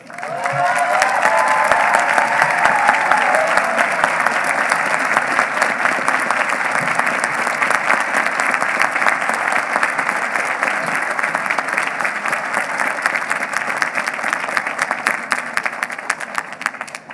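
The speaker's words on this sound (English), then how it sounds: "An applause for them." A crowd at the 2018 Vermont Law School commencement applauds graduates of the food and agriculture law program, with dense, sustained clapping filling a large hall and holding steady for well over fifteen seconds before easing slightly.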